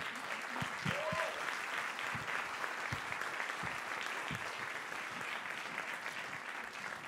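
An audience claps for a group of women being honoured: soft, distant applause that holds steady throughout, with a brief whistle near the start and a few low thumps scattered through it.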